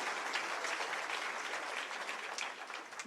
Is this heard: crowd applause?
yes